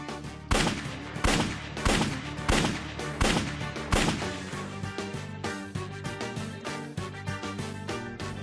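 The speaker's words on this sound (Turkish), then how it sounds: "Lan silah sesi var." Repeated loud gunshots ring out at a fairly steady pace during a raid on a mansion in a dramatic scene, each sharp crack decaying under a continuous music score.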